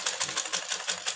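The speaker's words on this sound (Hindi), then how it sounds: "अब इसको हम ज्वाइंट कर लेते हैं, सिलाई लगा लेते हैं।" Sewing machine stitching the shoulder seam of a baby girl's frock, a brief, close run of rapid regular needle clicks.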